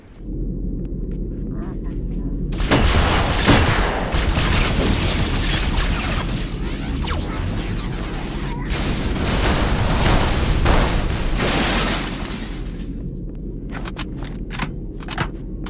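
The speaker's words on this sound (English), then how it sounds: "The one you just saw is a gravity grenade. It pulls people in, drains their shields, and then explodes." A gravity grenade goes off in Halo SPV3 amid combat: heavy booming bursts and rumbling blasts with gunfire-like crackles over a few seconds, then fading into scattered sharp pops.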